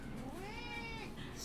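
A cat gives a single drawn-out, plaintive meow at close range, rising and then falling in pitch, with faint room noise behind it.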